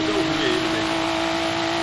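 A McLaren race car in a racing video game drones at high revs with a steady, loud, sustained engine tone and little change in pitch.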